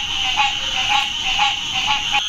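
Common green tree frogs call in a swamp with a rapid, steady series of bright, nasal croaks, close and clear over a constant high insect-like chorus.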